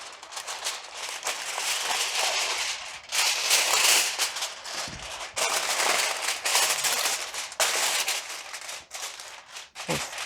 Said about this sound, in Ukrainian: Накриваю фольгою.